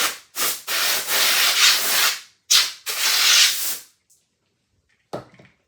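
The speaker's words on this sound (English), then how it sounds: "And then use sandpaper to really clean them off." Accordion reed blocks rubbed with sandpaper in several long, loud, close strokes with short pauses between them, then quiet, then a brief last scrape.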